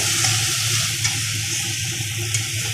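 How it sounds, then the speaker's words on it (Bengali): Spatula stirring poppy seed paste masala in a pan while cooking rui posto curry, a soft, steady scraping and faint sizzle with a couple of sharper clinks, no voices. "এবার ভালো করে নেড়ে চেড়ে মশলাটাকে"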